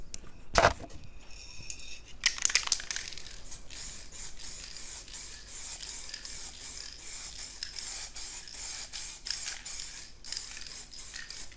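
A colour coat is sprayed onto a rusted car fender during a home repair, giving a steady, close hiss in short repeated passes, preceded by a sharp click of the spray trigger.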